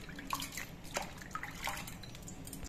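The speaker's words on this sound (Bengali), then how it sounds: "পেঁপের বীজগুলো সব ছাড়িয়ে নিয়ে আমি পেঁপেগুলো ধুয়ে নিচ্ছি।" Water drips and trickles softly while peeled papaya is washed, with small irregular splashes and faint liquid patters in a quiet kitchen.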